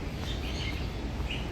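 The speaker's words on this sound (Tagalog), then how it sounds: "Daming ibon." Many birds chirp near a fountain in Hong Kong, scattered high tweets over a steady background wash of water and ambient noise, fairly faint.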